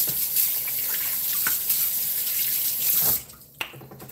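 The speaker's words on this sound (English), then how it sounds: "Then you wash your hands." Water runs steadily from a tap as hands are washed at a sink, a continuous close rush that stops abruptly near the end, followed by a brief knock.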